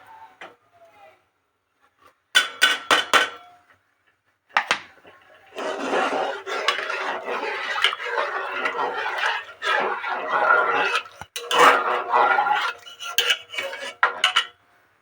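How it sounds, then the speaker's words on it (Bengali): Utensil scraping and clinking in a pot as cashew paste is stirred into Gobindobhog rice payesh, with intermittent bursts of steady stirring, fairly close. "আমি এটাকে এরমভাবে সারাক্ষণ নাড়তে থাকবো"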